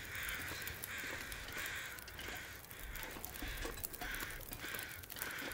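A flock of crows caws harshly and repeatedly in The Long Dark, overlapping calls pulsing every half second or so over a rough windy background, moderately loud.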